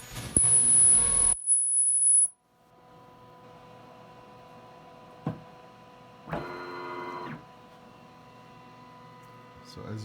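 An ultrasonic plastic welder fires on a plastic part: a brief loud high-pitched whine, then a low mechanical hum with short clunks and a second brief buzzing burst, close and otherwise quiet.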